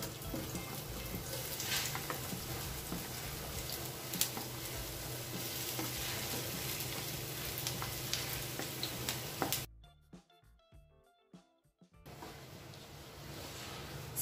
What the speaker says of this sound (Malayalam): ആദ്യം അതിലോട്ട് ഇവിടെ അരിഞ്ഞു വെച്ചിരിക്കുന്ന സവാള ഇട്ടു